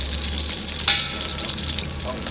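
Chinese sausage (kun chiang) frying in a pan for a Thai sausage salad, giving a steady close hiss and sizzle with one sharper crackle partway through and no talking.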